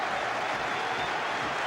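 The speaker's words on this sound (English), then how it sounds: "to general applause from around a relieved Oakwell" Broad, steady applause rolls around Barnsley's Oakwell stadium at half-time of a 1998 league match against Tottenham Hotspur, a distant, even wash of crowd clapping.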